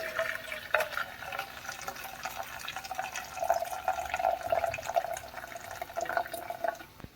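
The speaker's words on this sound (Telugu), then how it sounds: "ఏదైతే ఉడికిన వాటర్ ఉందో ఇది మనం పక్కకి తీసుకుందాం ఒక గిన్నెలోకి" Boiled cooking water from an Orissa-style guguni breakfast is poured off into a bowl, giving a soft, continuous trickling and splashing of liquid. The sound stays fairly faint and close throughout.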